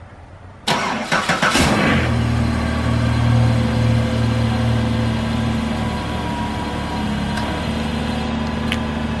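A police car's engine cranks and catches after a remote start, a short burst of starter clatter followed by a steady low idle that hums on close by with no talk.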